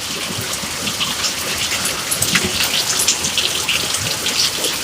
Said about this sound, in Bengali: কত জোরে বৃষ্টি আরম্ভ হয়েছে